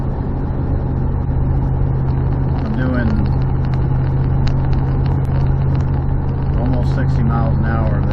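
A Dodge Dakota pickup driving on the road after a rack and pinion installation, heard from inside as a steady low engine and road drone, with someone talking over it.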